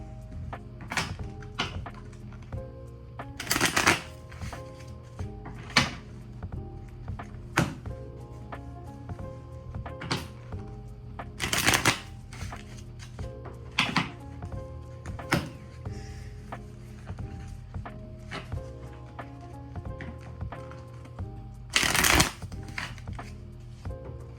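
Tarot cards are shuffled repeatedly in a quiet room, with soft riffling bursts and taps recurring at irregular intervals, close by.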